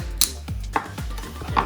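A knife chops peeled pumpkin into rough pieces on a board, giving five or six crisp, close thuds in an uneven rhythm.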